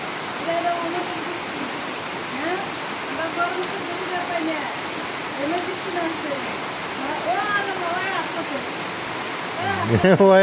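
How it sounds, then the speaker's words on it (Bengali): Steady rain falling, a dense continuous hiss like pouring water that stays even from start to end, with a voice talking over it and a brief clatter at the close. "বৃষ্টি দেখো ভালো কথা"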